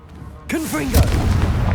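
A Confringo explosive spell cast in Hogwarts Legacy lands as a loud blast with a swooping magical whoosh, followed by a deep, sustained booming rumble.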